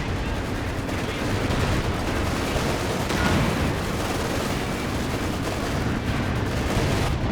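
Artillery fire from a 152 mm gun in the Company of Heroes 2 World War II strategy game, heard as dense, continuous booming and crackling battle noise that stays loud and steady throughout.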